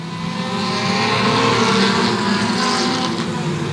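Several oval-track race cars roar together at a green-flag start at Sauble Speedway, engines rising under sustained loud acceleration throughout, with no talk.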